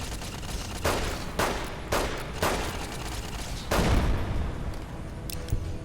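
Turrets firing in Fallout New Vegas, an open-world game: a scatter of sharp gunshots and impacts at irregular intervals over a constant noisy backdrop, moderately loud, with no talking.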